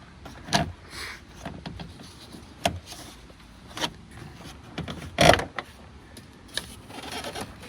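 An Infiniti G35 tail light assembly is worked loose from the car, with scattered plastic clicks, creaks and scraping knocks at irregular intervals, close and fairly quiet.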